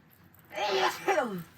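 A single sharp human sneeze aboard a sailing boat, brief and close, rising in a quick burst and ending in a falling exhale.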